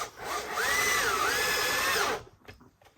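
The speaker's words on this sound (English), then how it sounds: "I'm also countersinking the screws to make my life a wee bit easier in the long run" A power drill runs steadily for about two seconds, its motor whine rising and dipping as screws are countersunk into wood while edging a fitted desk, then cuts off, leaving faint handling noises and no talk.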